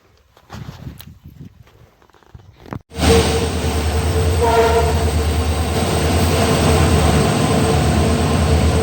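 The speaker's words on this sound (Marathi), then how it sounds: "काय ट्रेन आलेली" A few seconds of faint ambient sound, then a train suddenly roars past close by near a tunnel, a steady loud rumble with rattling wheels continuing to the end.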